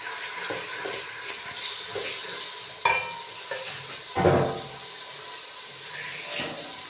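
Soft sizzling of garlic ginger paste frying in a pan with tomatoes and green chillies, a few scrapes and stirring clatters, a steady frying hiss underneath.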